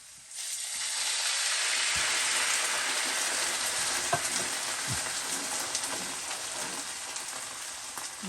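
Tomato sauce for vegetarian rigatoni simmering in a pot: a steady, bright sizzling hiss fills the clip, with a few faint clicks and pops scattered through it and no talk.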